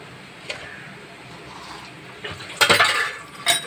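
A spoon mixes curd (yogurt) pachadi in a bowl: quiet background, then brief bursts of clinking and scraping clatter near the end.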